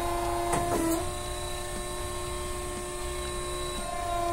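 A mandrel tube bending machine working 1.5-inch stainless steel tube hums steadily with a few faint clicks and thumps as the mandrel is pulled out and the clamps open.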